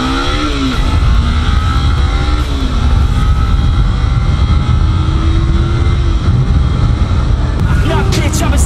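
Engine exhaust note revving, a loud rough drone with rising and falling pitch sweeps, close and continuous, mixed with other background noise.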